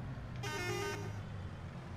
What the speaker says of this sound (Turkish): Korna sesi var.